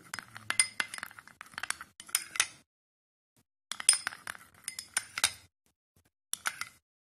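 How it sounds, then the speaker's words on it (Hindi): A spoon clinks against a bowl while face pack ingredients are mixed with honey, in close, uneven bursts of sharp clinks and scrapes separated by short pauses. "इन सारी चीजों को आप अच्छी तरह से मिक्स कर लें"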